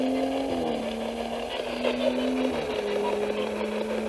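A misfiring car engine idles roughly with an uneven, sputtering exhaust note, steady and fairly close, with faint irregular pops.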